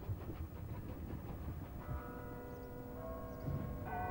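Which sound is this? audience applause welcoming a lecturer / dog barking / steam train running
steam train running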